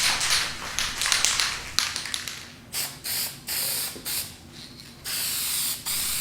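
Spray paint hisses from a rattle can in a series of bursts, first long continuous passes, then short even sprays separated by pauses, close and clear.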